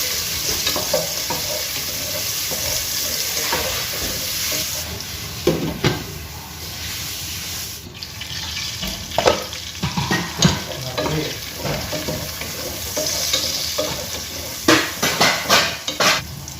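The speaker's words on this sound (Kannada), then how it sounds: "ಸಾಸಿವೆಯನ್ನು ಸೇರಿಸ್ತಿದ್ದೇನೆ, ಕರಿಬೇವಿನ ಸೊಪ್ಪು, ಈರುಳ್ಳಿಯನ್ನು ಹಾಕಿ ಚೆನ್ನಾಗಿ ಫ್ರೈ ಮಾಡ್ಕೊಬೇಕು" Mustard seeds, curry leaves and onion fry in a hot pan for fish masala, a steady sizzle running throughout with repeated spatula scrapes and small metallic clinks scattered across it, no talking.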